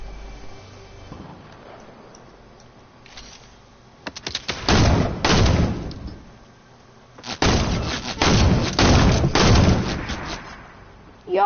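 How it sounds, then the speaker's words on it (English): Bursts of gunfire in the Fortnite video game, two long loud volleys of rapid shots separated by a quieter stretch, with faint player talk at the start. "who is shooting at me?"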